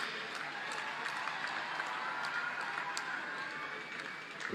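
A large audience applauds Olympic medalists, including PV Sindhu, at a state government honouring ceremony in Lucknow. The clapping is dense and continuous, a steady wash of claps that holds at an even level throughout.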